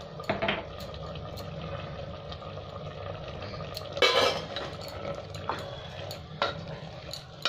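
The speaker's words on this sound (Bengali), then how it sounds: "একটু ভালো করে একটু নেড়ে নেব।" Cabbage ghanto is stirred in a pan, with a soft continuous sizzle under scattered metallic scrapes and clinks of a spoon against the pan, several sharper knocks standing out.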